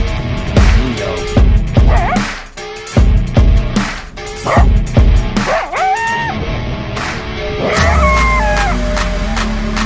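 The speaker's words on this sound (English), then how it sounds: "Mean dog." A dog barks in bursts of sharp, loud yelps and bow-wows, close by, with whining high-pitched cries between barks and an outdoor rumble near the end.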